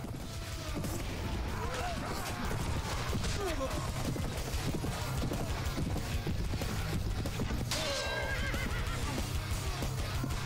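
A horse neighs and whinnies repeatedly in the medieval battle video game Prophesy of Pendor, loud against a constant din of clattering combat, hooves and crashes.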